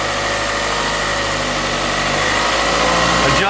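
A 1999 Acura 2.3 CL engine idles steadily, a loud, even hum with a low droning tone held throughout, close by, ending with a slight shift in pitch, no talking.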